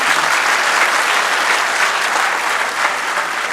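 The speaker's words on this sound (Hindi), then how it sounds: "तालियां बजा दी" Steady, dense applause from an audience at a poetry gathering in Rawalpindi, loud and continuous with no break across the whole stretch.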